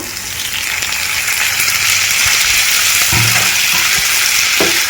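Chopped ripe tomatoes go into frying onions for a chicken gravy, giving a loud, steady sizzle throughout with a few brief stirring knocks partway through. No one speaks.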